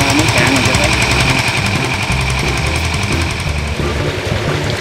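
A D10 engine-driven mud suction pump runs in the Mekong Delta countryside, giving a loud, steady, rapid knocking chug with no pauses from start to finish.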